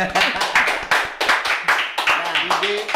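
A podcast audience clapping, a brisk run of close, sharp hand claps at an uneven rhythm, with voices talking over them.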